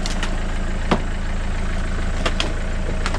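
A Renault Modus car engine idles steadily with a low, even rumble, heard up close with a few faint clicks and taps on top and no voices.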